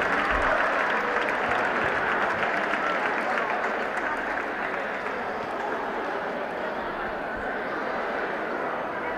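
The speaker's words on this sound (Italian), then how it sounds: "E un grande applauso al Basket Idri" Audience applause at a basketball tournament award ceremony, a loud, dense and continuous wash of clapping that holds steady throughout, close and full.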